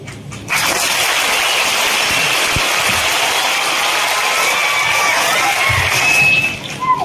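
A large group of schoolchildren at a school claps in a dense, steady roar of applause that holds for several seconds, with faint young voices mixed in.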